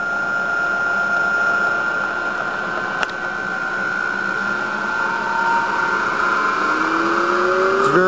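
The variable speed head of a Cleveland 10" x 52" milling machine, model CK-VH1052, whirs steadily nearby, a smooth motor hum that climbs gradually in pitch toward the end as the speed rises.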